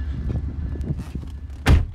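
A car door thumps shut once, a loud low-heavy slam near the end following quieter muffled rustling and handling sounds inside the vehicle.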